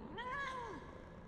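A cat in the video game Final Fantasy XIV gives a single short, soft meow that bends up and back down, heard faintly.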